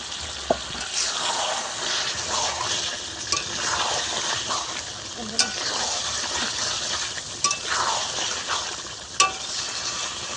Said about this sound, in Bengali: এবার দু মিনিট ভালো করে একটু এইভাবে নেড়ে চেড়ে দেবো